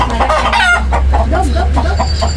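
Chickens kept inside the house cluck steadily and nearby, with a brief crow-like call among them.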